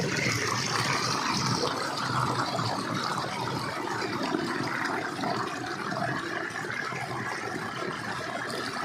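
A hill waterfall in Sylhet pours continuously, giving a steady, broad rushing roar that stays loud and unbroken from start to finish with no voices.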